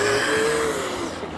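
A Traxxas E-Maxx RC monster truck on stock 16.8-volt batteries whines steadily at speed, a close, continuous high-pitched electric motor drone with a slight pitch drift.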